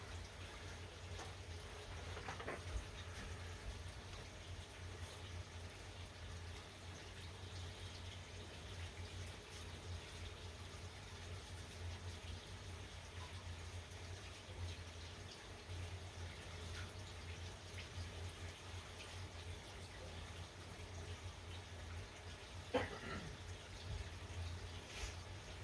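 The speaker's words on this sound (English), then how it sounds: "Let me go rinse this off in the sink." Tap water runs softly into a sink as parts of a Danner AP20 pond pump are rinsed, a faint steady trickle heard from a distance under room hum, with a few small knocks.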